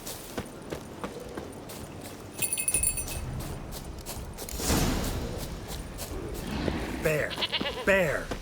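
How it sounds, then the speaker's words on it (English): A goat bleats in The Witcher 3, with a few shaky, wavering bleats near the end that follow other game sounds and some speech. "Here, goat."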